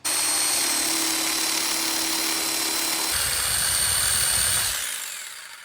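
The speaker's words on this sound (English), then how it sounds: "Only the first cut is done with the jigsaw" A jigsaw cuts through wood for a bird feeder with a steady high buzzing whine, loud and close, its tone dropping and roughening midway as the blade bites harder before the motor winds down at the end; no talking.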